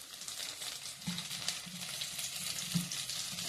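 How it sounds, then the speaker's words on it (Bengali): Tomatoes fry with spices in a pan, giving a steady, close sizzle with soft stirring thumps and scrapes scattered through it and no voices. "টমেটো দিয়ে দিয়ে টমেটোটা একটু ফ্রাই করে নিই মশলার সাথে"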